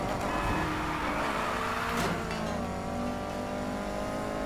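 Race car accelerating hard in Need for Speed Heat, a loud continuous engine roar rising in pitch with a brief shift midway, close and steady, with no talking.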